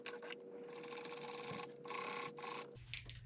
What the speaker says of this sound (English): Okay, we are going to top stitch on it